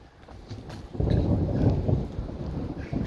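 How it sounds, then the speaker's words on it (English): Thunderstorm with constant rolling thunder and steady rain, a low rumble swelling after the first second and holding loud and continuous to the end, with rain hiss underneath. "Still thundering though"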